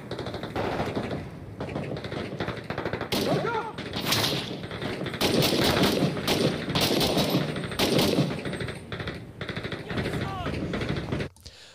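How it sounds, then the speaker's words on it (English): Sustained bursts of suppressive automatic gunfire from the video game Six Days in Fallujah, set in Fallujah, with rapid rattling volleys and sharp cracks building to loud peaks in the middle and continuing near and dense throughout. "Pin enemies in place with suppressive fire while you flank."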